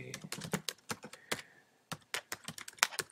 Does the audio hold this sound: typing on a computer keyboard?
yes